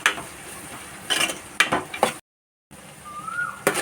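Onions frying with salt and curry leaves in a pan, crackling and sizzling softly while a spoon stirs and scrapes, with a few clinks and a brief gap of silence.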